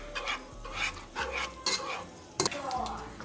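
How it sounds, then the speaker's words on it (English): Monterey cheese sauce being stirred in a pan for noodles, with a utensil scraping and clinking against the pan in several distinct strokes, close up and fairly quiet. "Let's stir this up"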